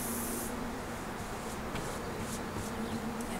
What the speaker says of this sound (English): I can add a little spray baste.